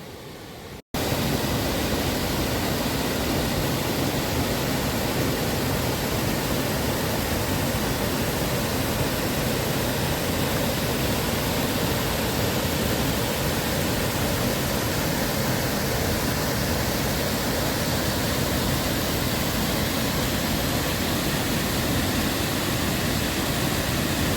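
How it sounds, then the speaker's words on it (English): A river pours over a series of stepped waterfalls at Stainforth Foss, making a steady, unbroken rushing roar that stays loud and close from start to finish with no voices. "the river flows down and over a number of stepped waterfalls"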